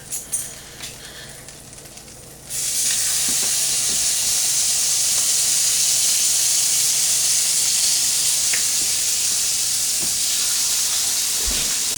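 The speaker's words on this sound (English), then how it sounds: "Get our next burger patties going." Burger patties sizzle loudly on a hot griddle, a steady dense hiss that begins abruptly after a few seconds of quieter clatter and continues unbroken, with occasional faint clicks of a spatula.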